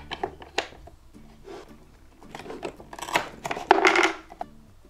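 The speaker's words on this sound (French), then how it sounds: "nous avons du thon que l'on va découper en tranches" Toy tuna being sliced in a pretend-play kitchen set, with several short scraping and cutting scrapes and taps at close range, ending in a louder burst of rubbing near the end.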